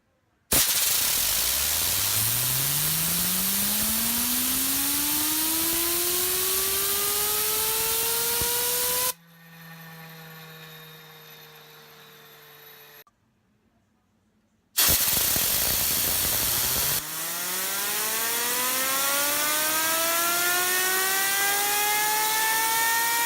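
A Psionic fidget spinner by Damned Designs spinning on its original bearing, a loud, close, steady whir with a rising tone and a hissy edge, stopping briefly and then starting up again.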